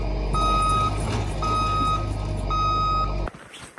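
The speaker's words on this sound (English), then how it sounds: "So while the tow truck works its way through a few of the cars" A tow truck backs up on a snowy mountain road, its reversing alarm sounding three evenly spaced loud beeps over a heavy diesel engine rumble, then the engine noise cuts off abruptly.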